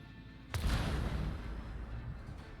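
Melter torpedoes detonate in Rogue Trader with one sudden deep boom, followed by a rumbling roar that lingers and slowly fades. It is heard alone, with no talk.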